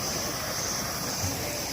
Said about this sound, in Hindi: ये भी झरने पीछे से आते हुए